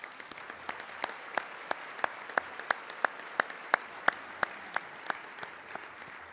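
A live audience claps to welcome elected guests at a 2014 State of the City address, with sparse, evenly spaced hand claps ringing out at moderate volume over a quiet room.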